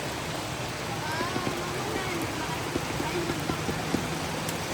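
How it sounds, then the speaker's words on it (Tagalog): Steady rain hissing outdoors with scattered drips and patters, close and fairly loud, with a faint low hum underneath. "Nabutan tayo ng ulan,"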